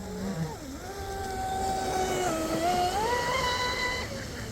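A small RC boat electric motor fitted with a reworked, de-tongued and balanced Octura x450 propeller whines steadily, its pitch rising and shifting as it runs on the water, heard fairly near and alone.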